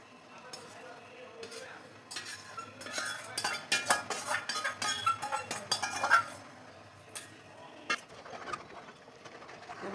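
A spoon stirring rice flour in a pot, with irregular clinks, scrapes and knocks against the metal, louder in the middle and quieter toward the end, and a voice talking softly at times.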